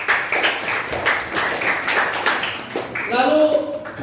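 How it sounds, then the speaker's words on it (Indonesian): A crowd applauds at an Islamic quiz competition final as the yellow team's points are announced, a dense patter of clapping with a voice speaking over it. "Tepuk tangan poin."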